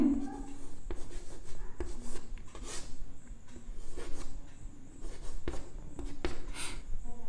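Chalk or marker writing an equation on a board during a chemistry lesson on reaction kinetics, heard as steady scratchy strokes with short taps throughout, fairly close, with a faint voice at times underneath.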